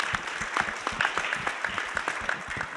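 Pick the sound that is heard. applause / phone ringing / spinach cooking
applause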